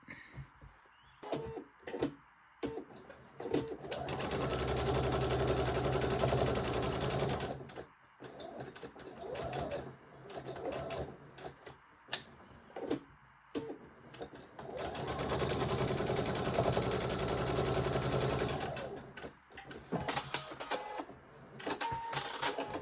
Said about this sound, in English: And we're going to sew this up.